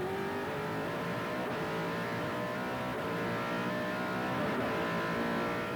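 A TVR GT1 race car at Manfield in 2008 pulls hard through the gears, its engine note a continuous high-revving drone heard steady and moderately loud, with brief breaks at each upshift and no talk over it.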